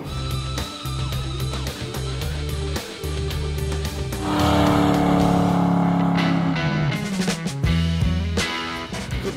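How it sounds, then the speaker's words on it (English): A modified 1977 Pontiac Trans Am with an LS3 swap drives hard, its V8 engine climbing through revs and shifting gears, loud and close from inside the car. "let's go for a ride in a slightly modified 1977 Pontiac Trans Am"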